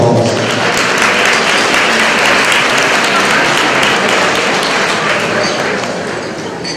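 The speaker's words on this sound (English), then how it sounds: "Let's again give our youth a round of applause." Banquet guests at a Black History Month awards event applaud the youth as they leave the stage, a sustained, thick round of clapping that gradually fades over the last seconds, with light voices mixed in.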